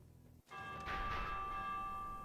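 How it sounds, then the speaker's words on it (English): A warning bell in the Minecraft Dungeons video game rings out with a single sustained metallic tone after a brief quiet moment, holding steady and clear with no voices over it. "Ring the warning bell."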